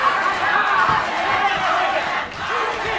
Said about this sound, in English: Crowd loving this one, crowd on the feet.